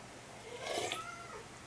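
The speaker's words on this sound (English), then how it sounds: "Oh, my cat's talkative." A pet cat gives a single soft, drawn-out meow in a quiet indoor room, faint and brief.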